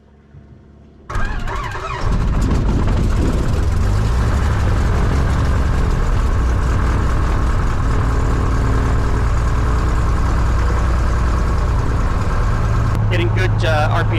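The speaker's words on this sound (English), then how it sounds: "But when I pull it back to idle, it idles really low." An aircraft piston engine cranks and catches, then runs steadily with a loud, close, rumbling drone that holds for the rest of the clip, with brief voices heard under it.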